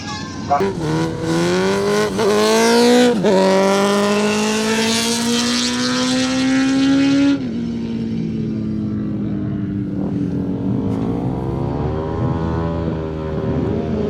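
An electric bike races around a track with a partially blind rider aboard: a loud, close, high motor whine climbs in pitch, then cuts to a lower, fading drone, with a voice talking over it.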